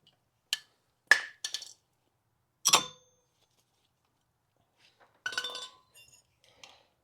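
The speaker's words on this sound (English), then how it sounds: "We can go ahead and remove the old pads from the caliper." Old brake pads come free of a Fiat front brake caliper with a few sharp metallic clinks and rattles, spaced by silent pauses, close and fairly quiet, with no talking.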